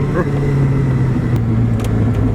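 A classic Honda S600 sports car engine idles and revs with a steady, smooth hum, close by, with brief background noises.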